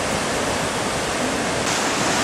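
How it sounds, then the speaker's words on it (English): Powerful ocean waves crash against the lava rocks at Dragon's Teeth on Maui, a loud, continuous roar of surf and spray with no voices. "Pretty powerful waves down there."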